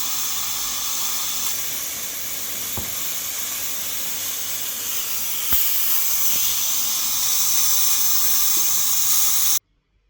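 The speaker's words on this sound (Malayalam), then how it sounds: "വാഷ് ബേസിനിലേക്ക് ഈ കുക്കർ വെച്ചതിന് ശേഷം പൈപ്പ് ഓപ്പൺ ചെയ്ത് ഇത് തണുപ്പിച്ച്" Tap water runs steadily over a Tefal pressure cooker sitting in a washbasin, giving a close, constant hissing splash with a few faint knocks, until it cuts off abruptly near the end.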